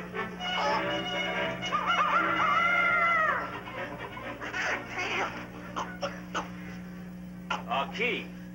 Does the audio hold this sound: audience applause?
no